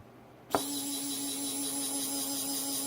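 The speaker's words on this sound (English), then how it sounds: "so that's the transmission working" An RC sumo crawler's full metal transmission starts with a click and settles into a steady, faint mechanical whine of meshing gears that holds evenly to the end.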